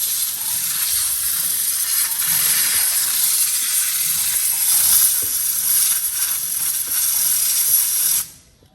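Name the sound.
compressed air blowing brake cleaner out of a motorcycle chain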